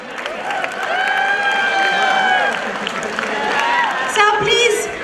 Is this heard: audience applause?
yes